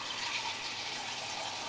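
Water from a tap runs into a measuring cup for a cake batter, a steady rushing pour that fills the moment without pause or talk.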